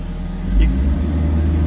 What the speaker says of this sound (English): can you hear it revving up? That's the auto idle working